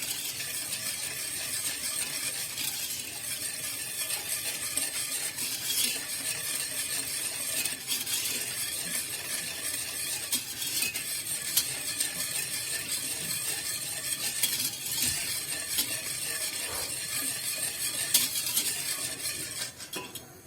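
Sugar is stirred into just-boiled milk for güllaç, a spoon scraping and clinking against the pot in a steady, close rhythm with faint hissing beneath and no talking.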